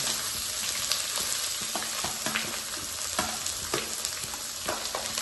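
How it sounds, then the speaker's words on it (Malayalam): Sliced onion frying in hot oil in a pan, a loud, dense, steady sizzle with small crackling pops throughout. "മൂത്ത് വരുമ്പോഴേക്കും നമുക്ക് സവാള ഇട്ട് കൊടുക്കാം."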